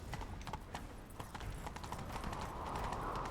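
A horse galloping at speed during a chase in The Witcher 3, with rapid, continuous clip-clop hoofbeats in a driving rhythm under a dense wash of game noise, steady and fairly quiet overall.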